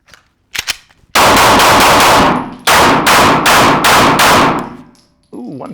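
Pistol fired at an outdoor shooting range, ten loud sharp shots in two rapid strings of five, close and ringing, with a brief voice afterward.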